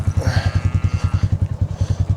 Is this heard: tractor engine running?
yes